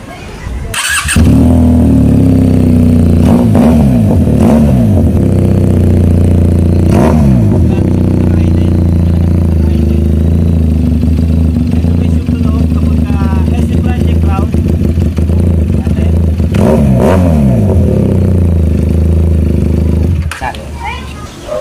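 A QJ Motor SRK400 motorcycle fitted with an aftermarket muffler, loud and close, starting up then idling with a deep steady rumble broken by several sharp throttle blips and revs.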